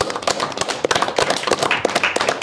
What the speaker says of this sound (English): All right, guys, round of applause.